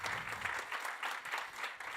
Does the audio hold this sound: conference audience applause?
yes